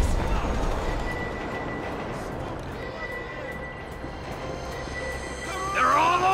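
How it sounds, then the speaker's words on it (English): Train rolling past in Grand Theft Auto V during a heist, a steady rumbling clatter of wheels on rails with a squeal near the end, heard beneath game noise. "Hey, let's get that train!"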